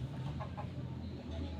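A chicken clucks in a few short, low, soft calls over a murmuring farmyard background.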